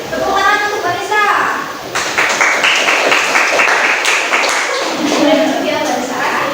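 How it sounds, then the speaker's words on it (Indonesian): Classroom applause for a student after her presentation in a social studies teaching session, a loud burst of clapping from a small group with children's voices and chatter mixed throughout. "Tepuk tangan untuk Vanessa."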